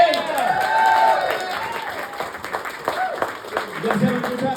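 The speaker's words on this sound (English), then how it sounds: "How about another big round of applause for your staff here, huh?" Audience applause at a comedy club, a broad wash of clapping and crowd noise that swells early and then thins into scattered claps with some voices mixed in.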